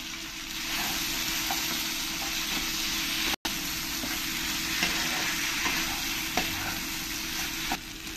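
A paste of cashew, poppy seed and green chili sizzles steadily in a hot pan, with soft scraping stirs and occasional clicks of a spatula throughout, close and unbroken apart from one brief cut.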